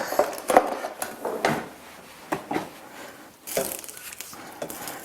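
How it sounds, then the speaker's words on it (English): A spoon works through a pot of egusi soup, giving scattered knocks and scrapes against the pot in an irregular rhythm, close and moderately loud, with no talking. "I'm going to use a spoon to mix it up."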